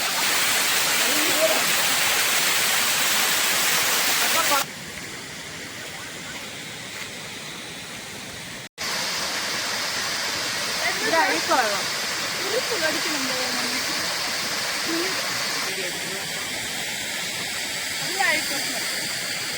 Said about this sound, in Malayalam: അത് ചെറിയൊരു വെള്ളച്ചാട്ടത്തിൻ്റെ ഒരു സെറ്റപ്പിൽ ചെയ്തിട്ടുണ്ട്